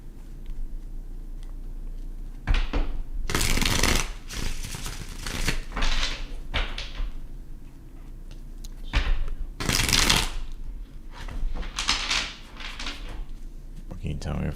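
Tarot cards being shuffled in bursts of crisp riffling and flicking, several separate rounds spaced through the stretch, close and fairly loud, with a voice talking between them.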